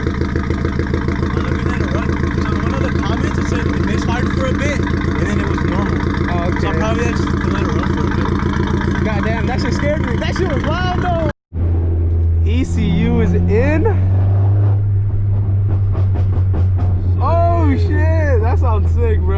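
An MK4 VW GTI 20th Anniversary Edition with a new exhaust runs loud and rumbly for a long stretch, cuts out briefly, then resumes with a deep drone while people talk over it.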